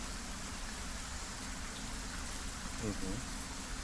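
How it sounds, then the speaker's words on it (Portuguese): Steady rain ambience heard inside a temple in a video game, a dense continuous hiss with a low rumble, soft and even, with a brief faint disturbance near the end. "esse som de chuva e trovões aí dentro é muito mais evidente"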